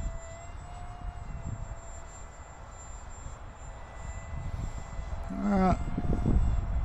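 An Eclipson Inferno RC model jet on its maiden flight gives a steady high-pitched whine over a broad rushing roar, swelling louder toward the end.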